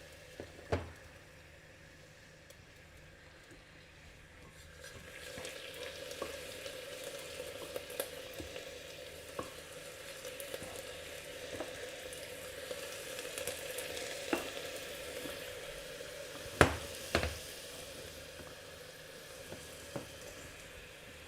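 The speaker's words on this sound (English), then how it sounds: "It is now finally getting hot enough to start caramelizing." Sugar caramelizing in a pan over high heat in a home kitchen while making chocolate truffles, giving a steady close sizzle and frying hiss with occasional stirring clicks and scrapes throughout, no voices.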